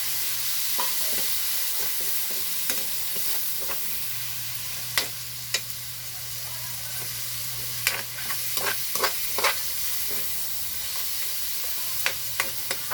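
Tomatoes frying in a pan give a continuous soft sizzle, with a spoon stirring through them in scattered scrapes and light knocks, close and with no voices.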